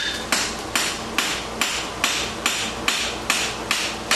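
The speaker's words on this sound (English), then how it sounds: "When you upset a heel, probably the most wasted hammer blows that you have are just flattening it out." A blacksmith's hammer strikes a horseshoe heel to upset it, ten sharp ringing blows falling in an even rhythm about every half second, close and loud with no talk.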